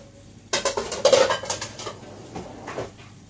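Freshly washed dishes, pots and cutlery being put away in a home kitchen: a burst of close clinks, knocks and rattles, busiest in the first second, then tapering to scattered lighter clatters, with no talking.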